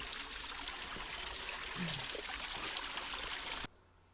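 A small waterfall in a mountain valley stream gives a steady, close rush of falling water with no voices, cutting off abruptly near the end.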